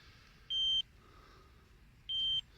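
Two identical electronic beeps from an electric fence tester in a pocket on an Irish farm, about one and a half seconds apart, steady in pitch and fairly faint, over quiet outdoor background noise.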